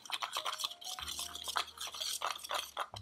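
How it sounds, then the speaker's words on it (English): Dry ingredients with cinnamon whisked together in a container for plant-based apple fritters, a continuous close scratchy rhythmic swishing with light clinks of the whisk against the sides, no voices. "we're just gonna whisk that together a little bit here, make sure there's no clumps in there"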